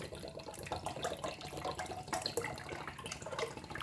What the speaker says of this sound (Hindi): तो अब हम इसमें 1 लीटर चिल्ड पानी ऐड करेंगे।